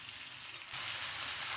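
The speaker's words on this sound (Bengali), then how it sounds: "দিলাম কেটে রাখা আমগুলো, ফোড়নের সঙ্গে ভালোভাবে মিশিয়ে নেব।" Cut mango pieces hit hot mustard oil with five-spice seeds and dried red chillies, and a steady close sizzle swells louder and brighter partway through; no voices.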